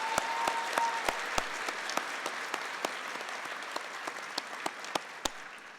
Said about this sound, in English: I also believe they deserve a round of applause.